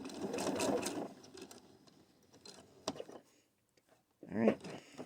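A hand-cranked sewing machine stitches an underarm seam on a tunic, a soft close mechanical whirr for about a second, then quiet clicks and brief handling noises, with a short louder burst near the end.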